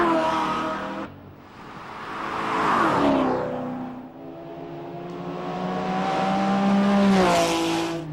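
Rally cars at full throttle on a TARGA Tasmania 1998 stage, several loud engine passes rising and falling in pitch as they roar by up close, no talk.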